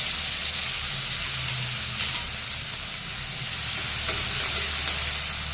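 Ginger, garlic and green chilies fry in hot oil with curry leaves for a dal fry. A loud, continuous hissing sizzle carries through with faint stirring underneath and no speech.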